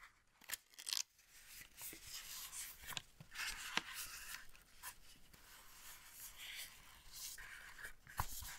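Soft rustling, scraping and light tapping as a Logitech mechanical mini keyboard's box is handled gently, faint and close with irregular small clicks.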